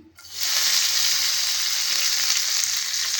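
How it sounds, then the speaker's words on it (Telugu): Red gongura (puntikura) leaves sizzle loudly in a little oil in a pan, a steady close broadband frying hiss that starts sharply and holds evenly throughout. "అదే ప్యాన్లో ఆయిల్ కొద్దిగా వేసుకొని శుభ్రంగా కడిగి పెట్టుకున్న పుంటికూరని అయితే వేసుకుంటున్నాను"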